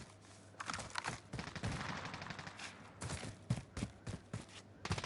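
Rapid gunfire bursts from a Call of Duty Warzone match, dense overlapping shots and cracks close by over a steady game background hum, with louder volleys near the end.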